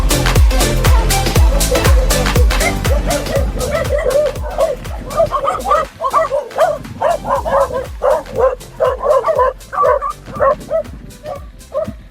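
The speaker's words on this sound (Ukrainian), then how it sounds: "напали собака" Several dogs bark and yap in rapid, overlapping bursts, loud and close at first, then settling into quicker yips and whimpering barks, heard on a bike ride.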